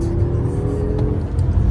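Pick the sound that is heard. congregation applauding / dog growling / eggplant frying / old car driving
old car driving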